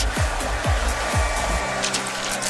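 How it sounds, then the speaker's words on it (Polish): A hair dryer blows warm air over a burger, a loud continuous whoosh with sweeping pitch changes as it is moved about, close to the microphone and without speech. "Spróbuję podrzeć go suszarką do włosów."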